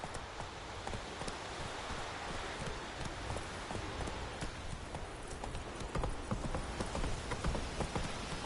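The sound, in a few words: horse hooves clip-clopping in Witcher 3 video game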